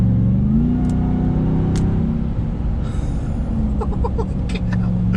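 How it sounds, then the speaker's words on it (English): A supercharged 2021 Ram TRX pickup engine rumbles and revs hard and steadily at under quarter throttle, a deep throaty roar with a rising supercharger whine, close and loud throughout. "a supercharger whine. That wasn't even quarter throttle."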